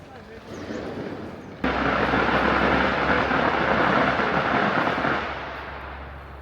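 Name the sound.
firecrackers going off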